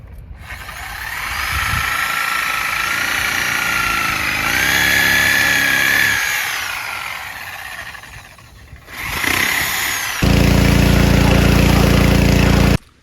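A motorized power tool cuts the exposed roots of a tree stump that was cleared with a pressure washer, whining under load with shifting pitch before a loud, steady engine drone takes over at the end.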